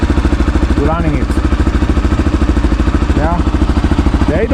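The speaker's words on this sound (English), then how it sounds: "The idling, it's at the lowest and it's so stable." An EFI Tekken 250 motorcycle engine idles close and loud with a steady, even rapid thumping pulse, while someone talks over it.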